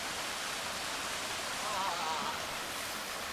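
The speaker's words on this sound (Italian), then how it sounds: "Questa è la cascata." A waterfall in an outdoor natural setting, heard as a steady, dense broadband rush of falling water that stays constant and fairly close throughout, with no other distinct sounds.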